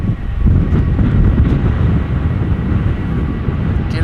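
A KLM jet at Schiphol Airport produces a loud, steady low rumble of engine noise with wind rushing against the microphone, continuous throughout.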